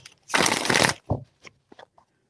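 A tarot deck shuffled once in a short, close riffling burst, followed by a few soft card taps and handling sounds.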